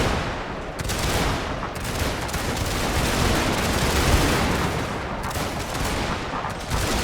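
Dense musket volleys from a crossfire in a Napoleonic-era Russia war video game, a continuous roar of overlapping shots that swells and crackles steadily throughout, loud and close with no talking.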